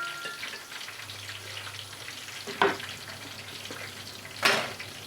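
Tomatoes frying in egg curry masala over a high flame give a steady, close sizzle with two brief sharp clinks of stirring, and no one talks.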